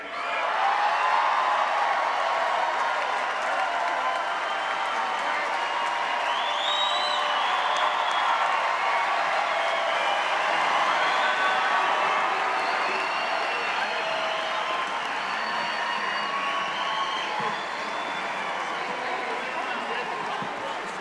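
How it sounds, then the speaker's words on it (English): Steady, sustained applause and crowd noise fill a large hall at a high school graduation ceremony, dense and continuous throughout, with occasional whoops rising above the clapping. "Let's give a little bit bigger round of applause for that, ladies and gentlemen"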